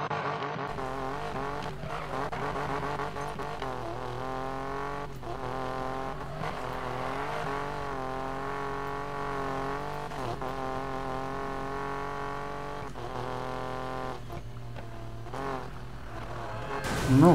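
Sports car engine in Need for Speed Payback droning steadily, revs rising and falling with gear changes across a continuous in-game drive, loud and close with no pauses.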